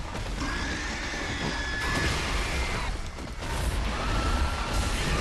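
Pig beasts in the video game Bloodborne give harsh squealing cries over a dense, rumbling wash of combat noise that stays loud and continuous throughout.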